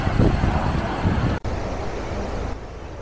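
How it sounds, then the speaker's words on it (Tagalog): Strong ocean waves surge and crash near a rocky keyhole-shaped formation on the Bali coast, with gusting wind buffeting the microphone in a steady, loud broadband roar and one brief dropout midway. "Ang ganda pa ng effect ng malakas na alon."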